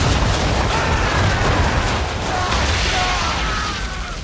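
Ship cannons firing during a naval battle in Assassin's Creed III, a loud continuous rumble of booms and explosions filling the whole stretch with no clear gaps between shots.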